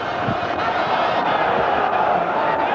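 A sell-out crowd of 11,000 at a boxing arena cheers and roars continuously, a loud, steady wash of voices with no breaks.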